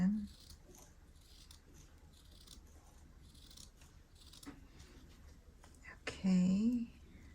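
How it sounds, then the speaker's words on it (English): Scissors snip through a red rim strip of paper during diamond painting work, a few quiet crisp cuts scattered over a faint room hiss, with a short burst of speech near the end. "Let me just cut a red rim."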